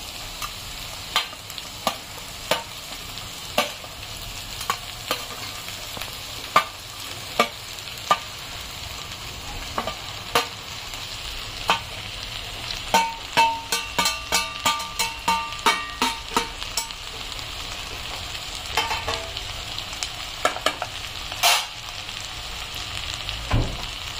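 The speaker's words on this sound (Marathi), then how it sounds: "आता आपल्याला टाकायच्या याच्यामध्ये ही भेंडी आपण स्वच्छ धुवून पुसून कापून घेतलेली आहे आपण।" Washed, cut okra fries with onions in a pan under a constant hiss, while a spatula taps and scrapes in repeated sharp knocks that speed into a quick clattering run midway, then slow again; no talking.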